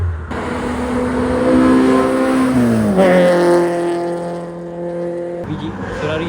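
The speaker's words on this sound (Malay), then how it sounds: "Biji Ferrari 458 dah masuk." A Ferrari 458 sports car on the Genting mountain road, its engine loud and close with a rising rev that drops sharply at a gear change, then climbs again as the car passes. Tire noise comes through faintly.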